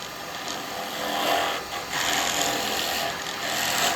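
A steady high whirring of a drill bit boring into wood spinning on a lathe, with slight swells in loudness, close up and continuous.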